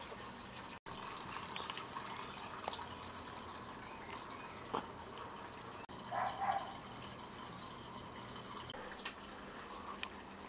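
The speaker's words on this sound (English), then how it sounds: "Oh yeah, it's my magic faucet." Water runs from a faucet in a steady, quiet stream, with a soft gush and a few faint clicks and drips over the constant flow.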